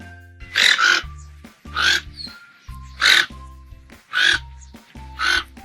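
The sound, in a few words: toucan call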